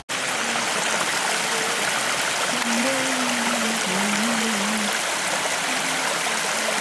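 Glacier meltwater stream rushing steadily in the Canadian Rockies, a loud, close, continuous gush and gurgle with a faint whistle-like tone drifting over it and no talk.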